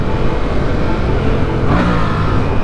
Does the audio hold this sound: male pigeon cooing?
no